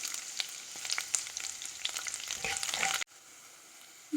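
Sliced garlic frying in a pan until slightly brown, a crisp close sizzle with light stirring taps that cuts off abruptly, leaving a quiet pause before a brief bump.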